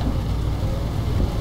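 Steady rain falls in Euro Truck Simulator 2 on a dark afternoon drive, a dense, even hiss with low rumble underneath, continuous and fairly loud with no talk.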